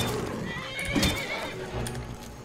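A horse whinnies once in Skyrim, a clear neigh over soft background noise and faint hoof clops.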